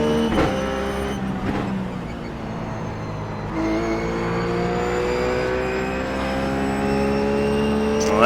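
A Ruf GT3 race car in iRacing at Brands Hatch holds full throttle, its engine a steady high-pitched drone that climbs in pitch through the run, loud and close with brief shifts in tone.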